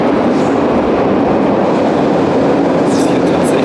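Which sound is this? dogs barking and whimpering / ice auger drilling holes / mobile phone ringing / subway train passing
subway train passing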